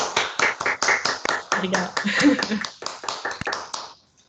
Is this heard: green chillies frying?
no